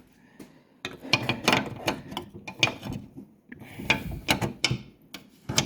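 A ratchet wrench clicks in quick, uneven bursts while loosening bolts on the passenger-side window regulator of a Mini Cooper S R53, close and clear with short pauses between strokes.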